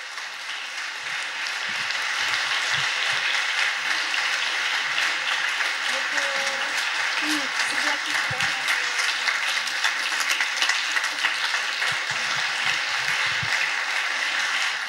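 Sustained applause from a conference audience at the closing thanks of the Leadership Brno 2017 event, a dense, steady clatter of many hands that builds quickly and holds for the whole stretch, with faint speech beneath.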